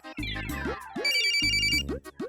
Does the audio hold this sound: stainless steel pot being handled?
no